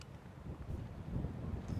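Wind gusts buffet the microphone in low, rumbling surges, swelling and easing over a couple of seconds outdoors in creek bottoms during turkey season.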